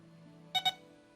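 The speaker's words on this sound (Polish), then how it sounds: "To są, to są takie same typowe zakłócenia jak na tamtych wykrywaczach." Metal detector picking up electromagnetic interference gives two short, closely spaced electronic beeps, loud and clear over a faint steady hum, with no talking.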